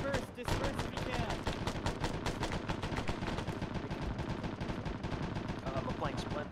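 Dense, continuous gunfire in an Arma 3 co-op battle, rapid automatic bursts and overlapping shots rattling without pause, loud and close, with voices calling out in between.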